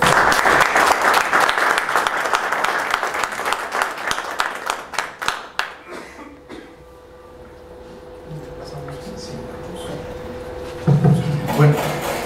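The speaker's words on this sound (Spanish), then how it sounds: "quisiera que lo recibiéramos con un caluroso aplauso" Warm audience applause at a Latin American academic conference lecture, loud and dense for about six seconds, then fading out into a quieter room with faint stray sounds and a brief burst of noise near the end.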